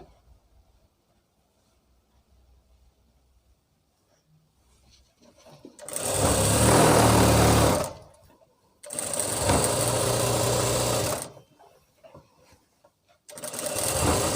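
Palazzo pants run through a sewing machine in three loud, sustained bursts of whirring stitching separated by brief pauses, after a quiet opening.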